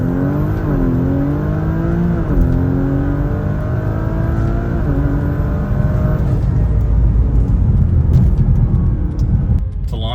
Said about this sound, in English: foot all the way to the gas, let the boost build